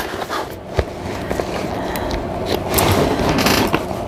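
A sewing machine stitches a bowler bag around the gusset at a small stitch length, a close, uneven run of mechanical clatter and soft thumps as the fabric is pushed through.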